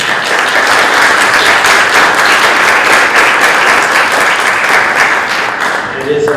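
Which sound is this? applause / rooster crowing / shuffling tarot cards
applause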